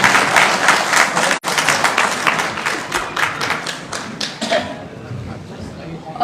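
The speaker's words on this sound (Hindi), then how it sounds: "तालियों की बड़ाहट दिखनी चाहिए मंच पर" Audience applause at a homeopathy award ceremony in Uttar Pradesh, a dense wash of clapping filling the hall for several seconds, with a brief dropout, then thinning and fading toward the end.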